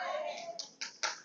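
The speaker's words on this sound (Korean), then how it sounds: "저기도 박수까지 치자는데, 할렐루야." Scattered hand claps from a church congregation during a sermon, a few short separate bursts of clapping as a voice trails off beneath them.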